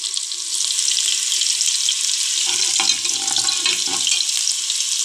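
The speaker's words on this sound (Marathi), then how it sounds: "आता आपण लसूण घालूया फोडणीमध्ये।" Garlic hits hot oil in a tempering for whole masoor dal, making a loud, steady hiss with small pops and crackles that pick up midway.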